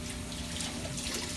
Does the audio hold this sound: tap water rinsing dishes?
yes